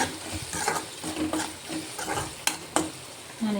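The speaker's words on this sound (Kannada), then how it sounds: "ಇದನ್ನೆಲ್ಲ ಫ್ರೈ ಮಾಡಿ." Ingredients for dal kichadi frying in a pan, with a steady sizzle under repeated stirring scrapes and a couple of sharp utensil taps against the pan, close and without talk.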